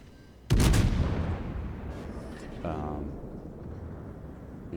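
Heavy naval guns fire in World of Warships during a clan battle, one loud booming salvo followed by a fainter second blast and a rumbling tail, with someone talking over it.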